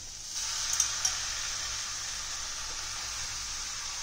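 Chicken and spices frying in a pan make a steady, faint, hissing sizzle, with a couple of small pops near the start.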